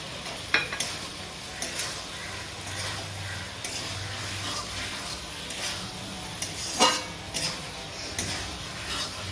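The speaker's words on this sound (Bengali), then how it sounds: "মশলা আর চিংড়ি মাছটাকে আমি ভালো করে কষিয়ে নিয়েছি এখন ভেজে রাখা এই যে পটলটা আমি দিয়ে দিচ্ছি" Pieces of fried pointed gourd go into a pan of shrimp masala, followed by a steady close sizzle with stirring scrapes and a few light utensil clinks against the pan.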